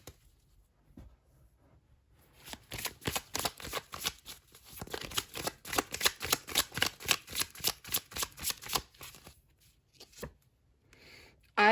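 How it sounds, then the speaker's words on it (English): A deck of tarot cards is riffled and shuffled, giving a quick burst of crisp, rhythmic flicks and slaps, close and fairly quiet, with soft handling before and after. "I'm gonna draw one more card here."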